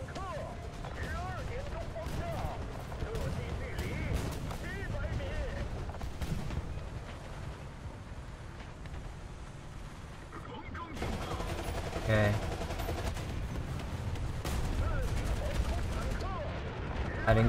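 Tank battle in the War Thunder video game, with repeated booming cannon and gunfire blasts over a low engine rumble and frequent talking across the clip.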